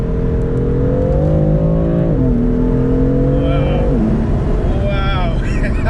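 A tuned 542 bhp BMW M140i engine pulls hard through several gears, its loud droning note climbing steadily with sharp drops at each shift, with voices in the car talking over it.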